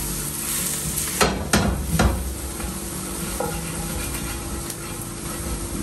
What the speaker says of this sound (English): I'm adding the caraway seeds and the paprika.